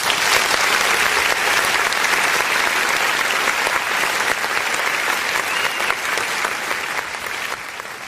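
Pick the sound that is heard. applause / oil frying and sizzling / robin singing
applause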